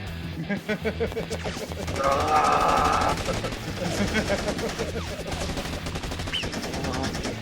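Gunfire from an action movie scene, rapid bursts of shots that come in clusters and are mixed with voices talking over them.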